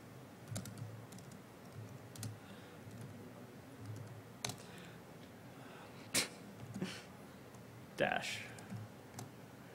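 Keys tapped on a computer keyboard during a live conference demo, heard as sparse, soft clicks scattered across a quiet room with faint background voices.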